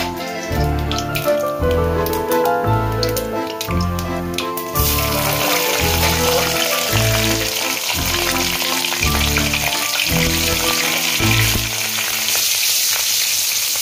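Black cumin seeds frying in hot oil, a loud continuous sizzle and crackle heard close up, with a steady rhythmic musical beat pulsing underneath for most of the stretch.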